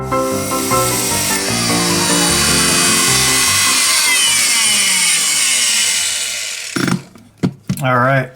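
A power tool cuts through a toilet supply pipe near the shut-off valve nut, a loud, steady grinding whine running about seven seconds before stopping abruptly, followed by brief clanks and a short burst of nearby talk.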